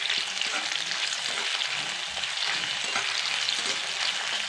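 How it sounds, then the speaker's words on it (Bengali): Onions frying in hot oil with cumin in a pan while being stirred, a constant close hiss of sizzling with soft scraping strokes of the spoon underneath. "পেঁয়াজগুলো দিয়ে ভালো করে নেড়ে নেবো।"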